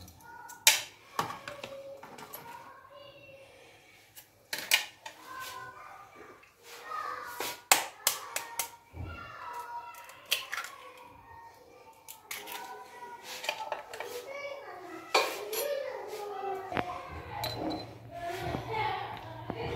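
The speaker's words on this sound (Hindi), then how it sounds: "इसमें हमने अंडे तोड़कर अच्छी तरह हमने इनको फेंट लेना है पहले" Eggs are beaten in a bowl, bursts of quick tapping and clicking strokes that start and stop, close but soft, between stretches of someone talking.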